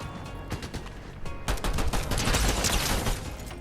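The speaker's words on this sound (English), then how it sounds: "once he brings out the pistol, he's hitting every single shot" Pistol gunshots in a Fortnite zero-build solo tournament match ring out in quick bursts, a sparse few shots followed by a denser rapid volley, loud and close with no talk.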